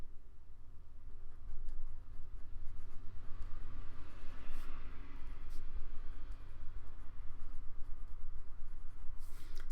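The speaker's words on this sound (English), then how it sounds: "If you're seeing me write that down." A pen scratches across a paper planner, a close, continuous scribbling rasp with small strokes and pauses, steady and moderately quiet, with no voices.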